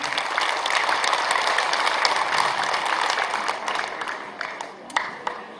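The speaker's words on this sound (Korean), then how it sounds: "뜨거운 박수 부탁드립니다." Audience applause at a Gwangju Girls' High School alumni general meeting, a dense, steady wash of clapping that thins slightly toward the end with a few louder individual claps.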